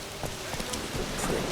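Hoofbeats of a horse galloping in The Witcher 3 video game, quick irregular thuds under a steady wash of rain, brief and moderately close.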